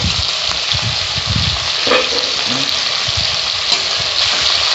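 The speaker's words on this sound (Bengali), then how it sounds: "কি মাছটা কতদূর ভাজা হলো" Close, steady sizzle of tangra fish frying in a wok, with occasional low stirring or scraping sounds under the constant crackle.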